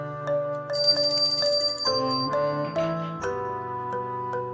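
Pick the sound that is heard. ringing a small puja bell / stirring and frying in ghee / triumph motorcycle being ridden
ringing a small puja bell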